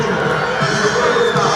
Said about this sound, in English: this crowd is getting loud